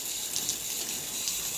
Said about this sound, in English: I'm going to go all the way around and water these somewhat because I just moved them